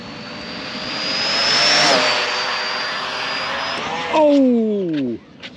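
Typhon 223s radio-controlled plane on its stock motor tearing past at high speed, a loud, steady high-pitched whine that swells and then drops sharply in pitch as it flies by and away, with excited voices near the end.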